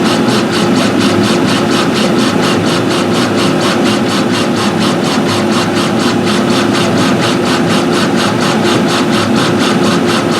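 A laser engraver runs while engraving acrylic, giving a loud, steady mechanical drone with a fast, regular pulsing texture throughout, with no voices.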